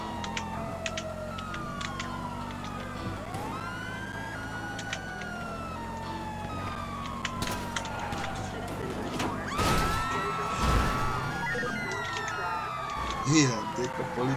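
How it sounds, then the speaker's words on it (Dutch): Wailing police sirens sweep up and down over engine noise in the video game GTA V, then a loud crash bursts out as a police car is rammed near the end, with game-like effects throughout. "Hier, dikke politieauto geramd."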